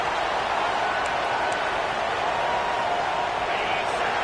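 Stadium crowd at a college football game between Florida State and Southern Mississippi, a steady loud roar of many voices filling the whole stretch without breaks, no distinct cheers standing out.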